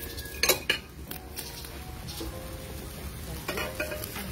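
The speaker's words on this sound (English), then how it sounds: "John is gonna take in some dishes." Cutlery and dishes clink and rattle as they are gathered and carried in a home kitchen during preparation of Guyanese fish curry, with a few sharp chinks over steady background noise.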